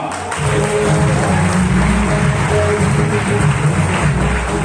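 Loud, dense applause from a large gathered audience, continuous clapping filling the space with a low rumble beneath.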